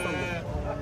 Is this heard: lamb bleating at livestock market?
yes